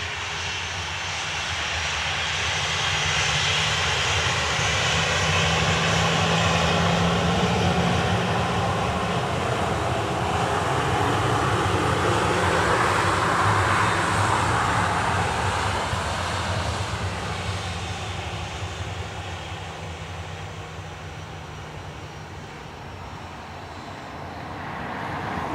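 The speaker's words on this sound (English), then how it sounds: "Thomas, it is an Airbus A310 converted to an MRTT, which is a multi-role tanker transport." An Airbus A310 MRTT tanker roars at Dublin Airport with a loud, sustained jet engine rumble and hiss that builds, holds for many seconds, then slowly fades a little as it passes.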